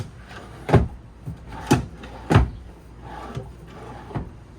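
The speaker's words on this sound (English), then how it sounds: "You've got 3 pull-out drawers here" Pull-out drawers in a 2025 Palomino SolAire 3060RKTS travel trailer sliding and knocking shut, three sharp wooden thumps close together followed by softer bumps, close and fairly loud with no talking.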